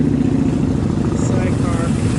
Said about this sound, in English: Knucklehead motor.